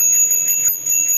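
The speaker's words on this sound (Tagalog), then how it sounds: "tapos may kasama na rin siyang bell." Bicycle bell on a new mountain or folding bike ringing rapidly, a bright repeated metallic trill with sustained high tones, close and loud with no talk over it.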